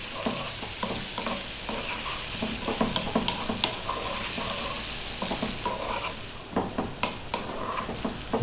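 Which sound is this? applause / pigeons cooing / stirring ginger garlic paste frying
stirring ginger garlic paste frying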